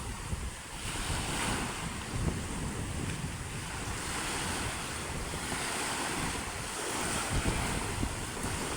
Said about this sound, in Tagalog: Nalakas pa nga hangin